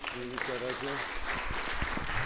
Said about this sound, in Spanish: un aplauso a todos los compañeros